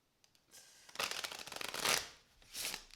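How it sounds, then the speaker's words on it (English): A brand new deck of cards being shuffled by hand, several quick riffling bursts of flapping card edges, close and fairly quiet, with no voice over it. "These are brand new cards, so the shuffling is going to be a little rough in this pile."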